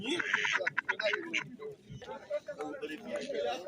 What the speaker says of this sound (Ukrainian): тут качечки індики